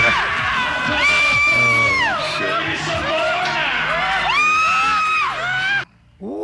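A dense audience screams, whoops and cheers loudly and continuously for about six seconds, with children's voices and yells in the mix, before cutting off abruptly.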